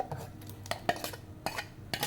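Ground onion-tomato masala paste for rajma curry goes into a pan, with scattered clinks and scrapes of a spoon against cookware, short and fairly close, with no talk.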